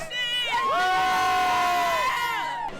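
A crowd of young cheerleaders at a cheer competition at Disney World lets out loud, sustained whoops and excited shouts, rising and overlapping for a couple of seconds close by.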